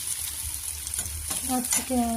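Chopped onions frying in oil in a home kitchen pan, a steady soft sizzle with light stirring, then a few brief voice-like tones toward the end.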